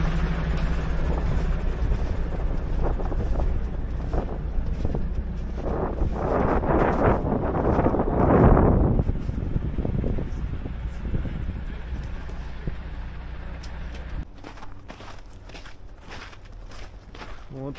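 A Mercedes Atego truck tows a vehicle away from a crash site, its low engine rumble droning steadily throughout, mixed with wind buffeting and a louder swell partway through before it settles.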